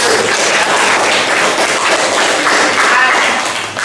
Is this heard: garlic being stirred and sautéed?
no